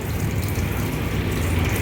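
Water gushes from a hose pipe into a bucket in a steady, loud, unbroken rush, with no talking.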